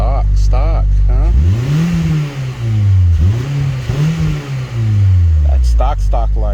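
A stock 8th gen Honda Civic Si exhaust revs up close and loud, the engine pitch climbing and falling through several blips before settling, with brief talk at the edges.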